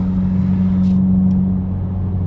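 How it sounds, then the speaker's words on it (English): A 2015 Subaru WRX with a catless downpipe and muffler deletes, heard from inside the car with the window up: a loud, steady low exhaust drone with no change in pitch. "But for having a Catless downpipe, this exhaust is surprisingly quiet"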